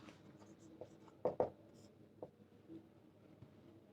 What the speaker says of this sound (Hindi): अब लिखेंगे